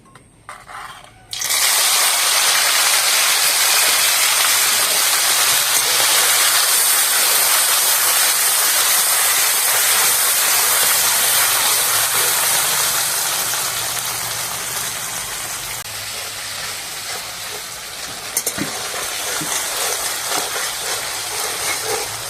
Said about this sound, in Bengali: মোরলা মাছ এরকম ছাঁকা তেলে ভাজবে